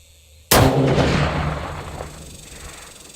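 A single loud long-range rifle shot, fired at a target just past a mile, cracks sharply after a brief quiet moment and then rolls away in a long fading echo.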